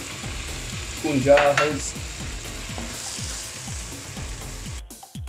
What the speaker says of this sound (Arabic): وهني اللحم قاعد يستوي